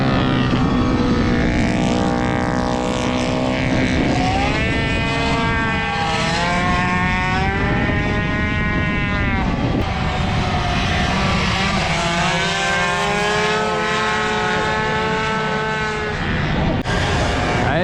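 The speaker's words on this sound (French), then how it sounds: "Et là vous allez voir la fameuse 103 qui a fait le road trip qui va rouler." A Peugeot 103 moped engine rides at the Coupes Moto Légende 2023 race, a loud, close, buzzing two-stroke whine that rises and falls in pitch through the revs, under background crowd and occasional talk.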